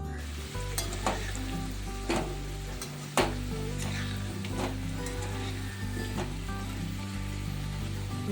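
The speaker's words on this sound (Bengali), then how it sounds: "এখন পেঁয়াজ রসুন আর টমেটো ভাজতে শুরু করে দিয়েছি" Onion, garlic and tomato fry in a pan where diced potatoes were just fried. A continuous, fairly close sizzle is marked by occasional spatula taps and stirring scrapes over a low steady background hum.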